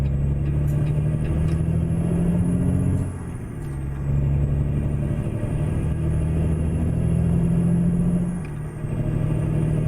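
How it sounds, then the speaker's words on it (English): Heavy truck engine in a trucking simulator game, a deep steady rumble with low droning tones that dip briefly twice before rising again, loud and continuous with no talk. "Big truck coming through."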